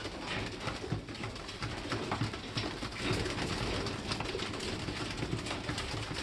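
Racing pigeons in a loft: soft cooing and bird calls against a steady background hiss, moderately faint and continuous, with no talking.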